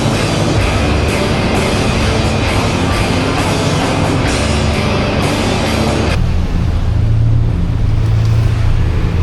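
A Panhead motorcycle engine runs loud and close with a steady rumbling idle, its tone dropping and quieting partway through as the revs settle lower.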